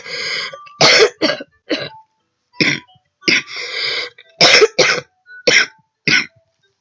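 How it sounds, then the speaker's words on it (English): A sick person coughs and clears their throat repeatedly at close range, with short harsh bursts separated by brief silences, some doubled, plus a few longer raspy throat-clearing sounds. "I'm really sorry about the coughing and stuff and the sniffling"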